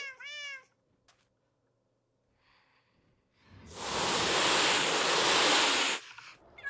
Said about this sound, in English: That's the cats.